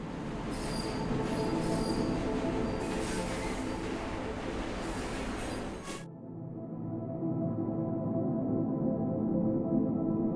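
A train in the video game Luna Abyss runs on rails with a steady rumble and squealing wheels, then the sound cuts to a quieter hum partway through, with no talking.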